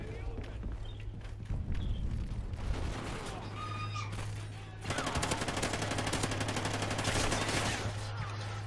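SMG fire in Call of Duty Ghosts comes in rapid automatic bursts, fairly faint beneath a man's speech, with a denser stretch of firing in the second half.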